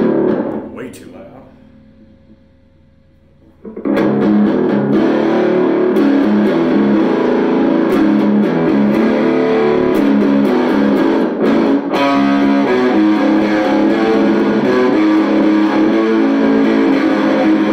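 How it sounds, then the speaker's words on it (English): A loud, heavily overdriven electric guitar through an Orange Micro Terror 20-watt head and small cab, gain at maximum, a single tone ringing out, then sustained crunchy chords played continuously. "This is just guitar into the head, into the cab, coming into the mic."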